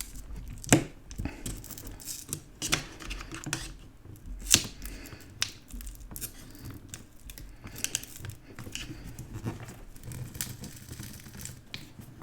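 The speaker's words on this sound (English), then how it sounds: "break each of these adhesive strips and pull out" Prying and pulling MacBook Pro 13-inch A1708 battery adhesive strips with a flat, strong tool, producing intermittent close scraping, peeling and small sharp snaps, with quiet pauses between them.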